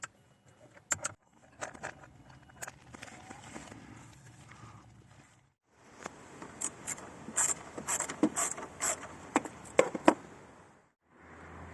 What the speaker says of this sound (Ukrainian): ключом на 12 спочатку відкручуємо